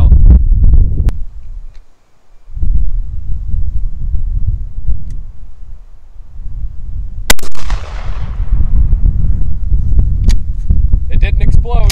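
A 1951 bolt-action shotgun firing reloaded shells outdoors: a loud, sharp blast partway through, followed by a ringing, rattling tail over steady background noise.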